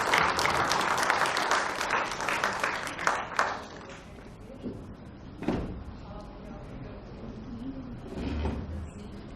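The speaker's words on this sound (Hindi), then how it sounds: "एक बार भरपूर तालियों से हम स्वागत करें" An audience at the launch of the book Mahalon Mein Vanvas breaks into full applause, loud and dense for a few seconds before thinning out into scattered claps and quieter room noise.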